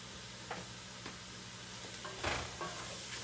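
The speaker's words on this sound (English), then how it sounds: "we'll stir that around for a couple minutes" Beef, frozen vegetables, dry spices and garlic sizzling steadily in a cast iron pan, with a few soft stirring clinks and scrapes over the continuous frying hiss; no talking.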